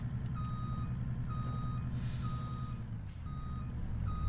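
A truck in Farming Simulator 25 backing up to hook onto a trailer: steady evenly spaced reversing beeps over a loud, constant diesel engine rumble, with a brief hiss of air brakes midway and no speech.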